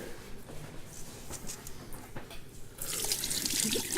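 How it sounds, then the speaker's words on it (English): Beer-boiled cheese being strained, liquid splashing and trickling into a sink, with brief drips and clatter early before a louder, steady pour of running liquid toward the end. "we're gonna strain this cheese out"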